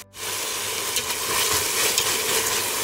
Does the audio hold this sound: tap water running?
no